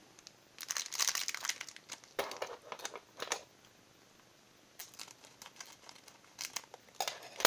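Plastic wrapping crinkles and tears in close, irregular bursts with quiet pauses as a Pokémon Shining Fates card tin is opened.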